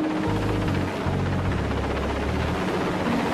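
A rescue helicopter flies back toward Aberdeen in a force 10 gale over the North Sea carrying survivors, its rotor drone low, loud and steady for a few seconds with nothing else over it.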